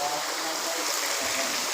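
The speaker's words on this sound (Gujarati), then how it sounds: "પણ તમે જોઈ શકો છો વરસાદ ફૂલ છે." Heavy rain with running water pours outside a recording studio in Vadodara, a steady broadband wash with no breaks. It holds at a consistent level throughout, with faint low rumbles underneath.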